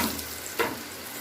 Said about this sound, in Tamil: ஸோ நல்லா ஆயிலில் ஃப்ரை ஆகட்டும்.